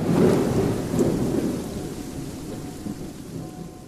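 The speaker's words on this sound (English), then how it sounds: "There's a storm coming in." Steady heavy rain with a low rolling thunder rumble swelling early and then fading, a thunderstorm sound effect from a radio play, with no voices over it.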